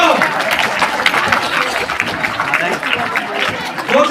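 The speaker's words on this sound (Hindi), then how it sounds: "जोर से तालियां बजाएं।" A crowd at a school annual day keeps up continuous applause while a voice talks over it.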